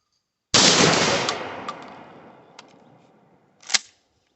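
A Stevens 320 pump shotgun fires one loud, close blast whose roar and echo slowly fade, followed by a few small clicks of the action and a second, fainter report near the end.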